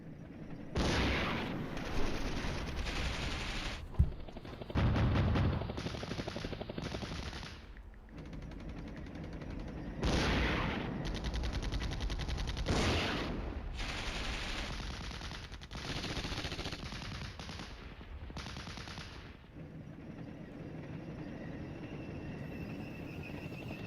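Sustained bursts of machine-gun and rifle fire trade back and forth between mechanized rifle units in the Flashpoint Campaigns: Red Storm war game, dense rattling volleys with brief lulls and a sharp blast near the start.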